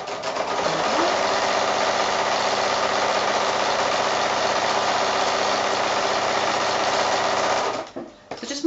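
Sewing machine running through PVC coated fabric while stitching the handles of a small shopping bag, a steady close mechanical whir and rapid needle chatter that hums on for about eight seconds before stopping.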